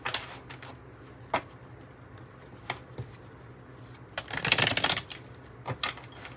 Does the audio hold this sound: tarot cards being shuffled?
yes